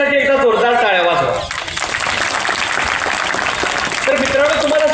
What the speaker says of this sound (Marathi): तुमच्यासाठी एकदा जोरदार टाळ्या वाजवा